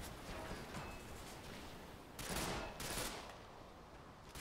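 Bursts of gunfire from the video game Ghost Recon Phantoms sound over a busy, noisy background, with two louder rapid volleys near the middle of the clip and no talking.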